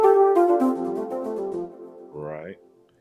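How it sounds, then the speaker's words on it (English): A soft, sustained synth flute pad plays a held chord, followed by a brief rising, airy tone that fades out. "this is one pad that's called flute pad"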